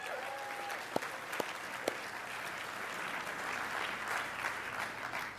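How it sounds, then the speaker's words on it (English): Applause at a military association panel event for its 2 millionth member, a fairly faint, steady wash of many hands clapping, with a few sharp nearby knocks and a brief tone near the start. "How about another round of applause for our 2 millionth member?"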